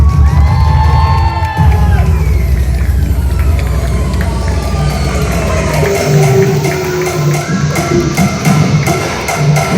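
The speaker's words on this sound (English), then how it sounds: "Thunderous applause for our ladies gymnasts. Come on, everyone, keep cheering them." Loud crowd cheering and shouting for girl gymnasts at a school graduation day, with children's whoops and excited hubbub filling the space continuously, sustained and close.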